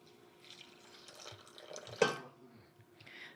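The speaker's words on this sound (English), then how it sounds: "Then we're gonna pour about 1/2 cup of water in here." About half a cup of water poured onto Knox gelatin, a soft trickling splash building to a brief louder gush, then settling into quieter dribbles.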